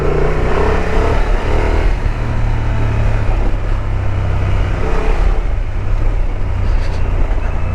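Honda XL750 Transalp motorcycle engine running steadily while riding off-road on gravel in low gears, a loud continuous drone with wind buffeting and rumbling tyre noise, no voices.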